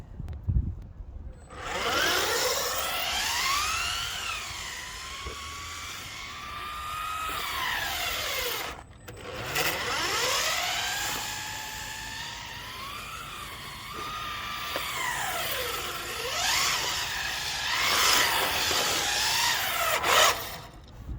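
A small FTX Banzai RC drift car on road tyres rips around a road, its electric motor whining in rising and falling sweeps as it accelerates, brakes and turns, close and continuous.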